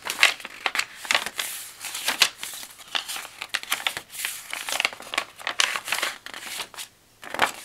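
Paper pages of a handmade gratitude journal are handled up close, crinkling and rustling in quick irregular bursts with short pauses, with no one speaking.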